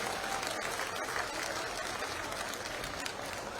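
Audience applause at a beneficiaries' gathering in Madhya Pradesh, welcoming a state minister; dense, steady clapping from a large crowd fills the whole stretch without a break.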